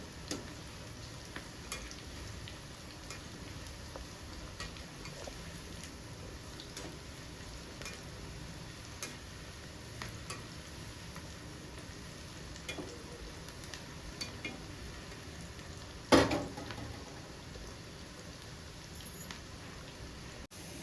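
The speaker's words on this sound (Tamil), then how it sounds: "பாருங்க, நல்லா எண்ணெயில் போட்டு பொரிச்சு எடுத்தாச்சு." Cauliflower chilli (gobi 65) pieces deep-frying in oil, a steady bubbling sizzle running throughout with faint stirring ticks and one sharp clatter near the end.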